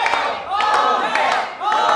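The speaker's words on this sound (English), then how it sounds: "you got the crowd rooting for Kohei" A crowd at a world championship match cheers and shouts loudly and continuously, with rising, overlapping voices swelling in waves.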